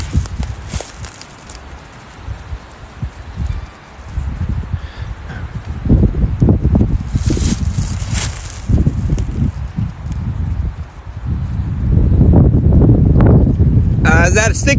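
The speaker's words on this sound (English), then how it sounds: "the wind picking up real strong" Strong wind gusts rush through a forest, a rough low roar that swells in waves and peaks near the end, with leaves rustling and footsteps, while someone talks over it.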